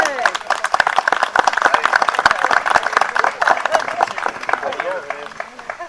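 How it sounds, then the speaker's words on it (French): A small group claps together at a casual ceremony, dense, steady, fairly loud applause close by with a few voices murmuring underneath. "on n'a pas applaudi d'abord, alors on va applaudir"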